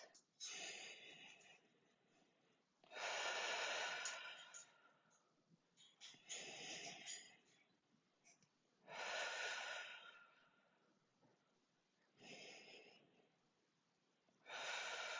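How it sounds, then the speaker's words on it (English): Long, deep breaths drawn during a yoga core and stretch session, five or six slow, airy inhale-exhale cycles close to the microphone, rising and falling in a steady rhythm. "3 long breaths."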